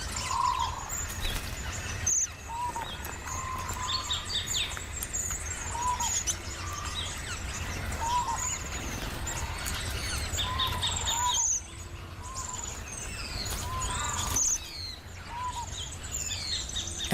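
A red-browed finch sings during its courtship display in Australian bushland: short, high chirps and thin tweets repeat at irregular intervals over a steady background hum of other birds and insects.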